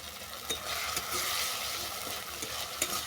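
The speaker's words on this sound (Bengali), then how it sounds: "এর মধ্যে দিয়ে দিলাম কেটে রাখা টমেটো।" Chopped tomatoes frying with spices in a pan for a katla fish and jackfruit curry, a dense close sizzle with a few soft stirring knocks, no speech.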